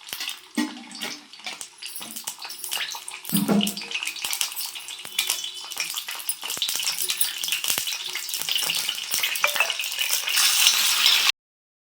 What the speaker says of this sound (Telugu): ఒక 2 స్పూన్స్ ఆయిల్ వేసుకొని పోపు గింజలు వేసుకోవాలి.